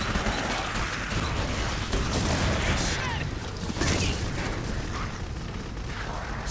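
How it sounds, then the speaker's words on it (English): Dense explosions and gunfire from the video game Clive Barker's Jericho, a loud, continuous barrage of booming blasts and rapid shots running unbroken throughout with no pause. "Explosions."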